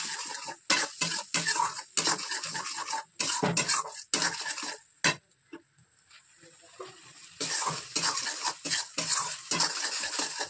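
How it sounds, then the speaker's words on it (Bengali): Cumin and chili paste sautéed in about a spoonful of oil, heard as close, loud metal spoon scrapes and clinks against the pan over a light sizzle, in bursts with a short quieter pause midway. "এই মশলা এটাকে এখন ভালো করে কষিয়ে নেব।"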